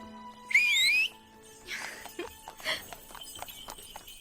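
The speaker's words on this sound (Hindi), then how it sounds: "लोग सीटी क्यों बजाते हैं?" A sharp, sliding human whistle rings out loud for about half a second, followed by clip-clopping hooves and light footsteps in the background.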